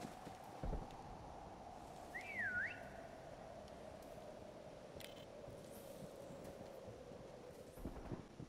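In the Prop Hunt video game, a single short whistle rises and dips in a wavy tune, faint and somewhat distant, over a steady low ambient hum and occasional soft thumps.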